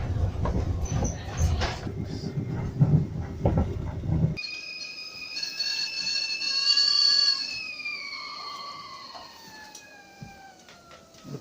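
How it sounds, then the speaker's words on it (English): A train bound for Boston rumbles and clatters at a station, then long high brake squeals ring out as it slows to a stop. "And here we have a train to Boston."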